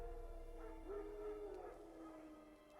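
Wild dogs howl in the Witcher 3 video game: one wavering, mid-distance howl rises and falls over a low ambient game backdrop, with fainter yips trailing after it.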